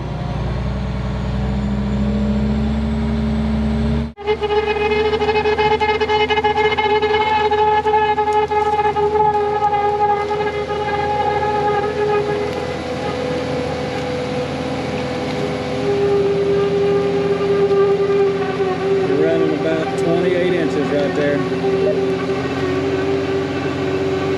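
A tractor pulls a ripper pipe plow laying 8-inch main line across a high-voltage power line route. A heavy diesel drone with a whining harmonic cuts in abruptly, then holds loud and close.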